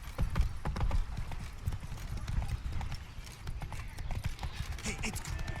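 Game horse galloping in The Witcher 3, hooves pounding in a fast, steady clip-clop rhythm close up over outdoor ambience, with faint background sound.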